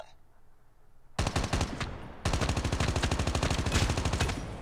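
M16 rifle in Call of Duty Mobile fires a short burst, then after a brief gap opens up in sustained rapid automatic fire, loud, close and crisp, with no talking over it.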